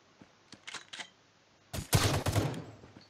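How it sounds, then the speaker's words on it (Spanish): Rules of Survival video game gunfire, a few faint scattered shots, then a short loud burst of rapid fire that fades out. "Estaban disparando, me parece."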